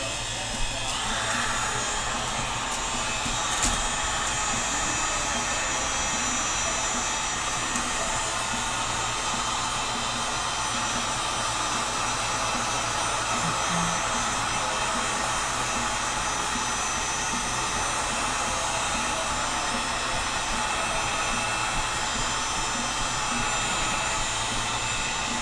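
A heat gun warms the glue on take-down Sipahi bow limbs, giving a loud, unbroken roaring hiss of blown hot air that holds steady throughout with no talk.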